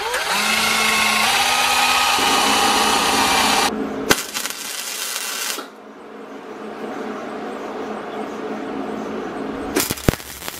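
A power drill whines steadily at close range for a few seconds drilling a hole in steel for a belt grinder build, then cuts out, leaving quieter workshop noise and a few brief knocks.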